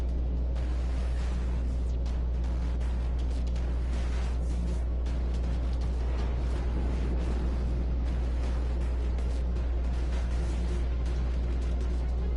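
A warship burning in the World of Warships video game: a continuous, dense roar with a heavy low rumble underneath, loud and unbroken throughout.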